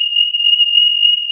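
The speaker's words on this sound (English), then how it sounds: "Yes, that is my fire alarm going off." Home fire alarm going off during a storm after a power cut, a loud, piercing, unbroken electronic tone held steady throughout.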